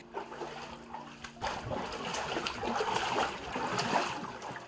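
A student wades through floodwater in a narrow alley, with a quiet hum at first and then steady close splashing and sloshing of water with each step.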